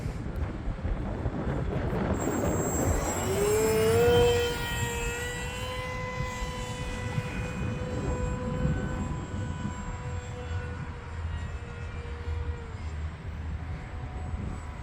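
A HobbyZone Aeroscout RC airplane flies in gusty wind. Its motor whine swells and rises in pitch, then holds a steady drone while it passes at moderate distance, under a constant rush of wind buffeting the microphone.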